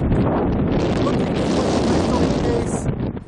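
Strong coastal wind buffets the microphone on an Oregon beach near Newport in fog, a steady loud broadband roar with gusty swells that eases slightly near the end.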